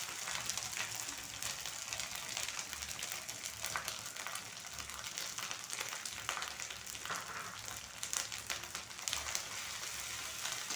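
Ginger frying in a pan with cumin, turmeric, chili and coriander powders gives a soft, steady hissing sizzle, even and fairly faint from start to finish, with no voices.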